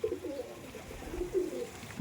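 Madras flying pigeons give a few low, throaty coos in close succession, near and fairly clear, with a stronger coo rising at the very end and no talk over them.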